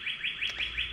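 Outdoor bird chirping, a high repeating trill pulsing about four times in one second, fairly clear and alone.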